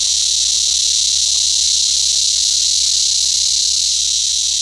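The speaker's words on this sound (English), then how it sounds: "the loudest insect in the world," A cicada, the loudest insect in the world, gives a continuous, intense buzzing drone that holds steady and loud for the whole stretch with no pauses.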